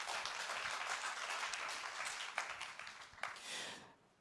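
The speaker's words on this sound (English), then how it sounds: "Can we give that a big round of applause, please?" Applause from a volunteer appreciation awards audience, a dense spread of clapping that swells and then drops away to near silence at the close, quiet overall with no talk.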